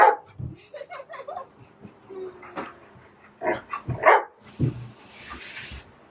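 A dog barks several times in short irregular bursts, close by, with some whimpering yips mixed in.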